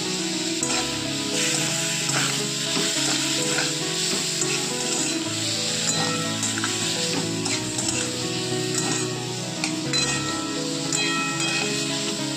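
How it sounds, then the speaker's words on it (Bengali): A bright, dense sizzle and hiss come from spice paste with chilli, turmeric, cumin and coriander powders and a little water being sautéed for a bitter gourd and prawn dish, with repeated stirring clinks and steady background music. "হলুদ গুঁড়ো, জিরে ধনে গুঁড়ো আর অল্প জল দিয়ে খুব ভালো করে কষিয়ে নেব।"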